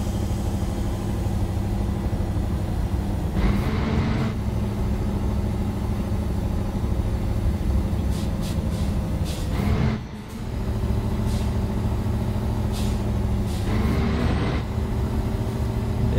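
A Mercedes-Benz 1938S truck pulling a bitrain trailer in Euro Truck Simulator 2 on a steep mountain descent, its engine droning steadily with a low rumble, briefly dropping during gear changes before rising again.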